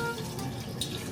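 Water pours steadily into a pan of onions being cooked for pork steak in a home kitchen, a short, even splash heard up close.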